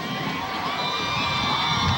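Crowd at a high school football rivalry game on senior night, a steady roaring cheer from many voices, loud and sustained throughout without a break.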